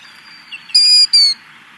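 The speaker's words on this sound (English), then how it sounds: "Killdeer make a very loud two-syllable call" Killdeer giving its loud two-syllable call, two sharp high piercing notes in quick succession, close and clear over a soft hiss of background, with no voices.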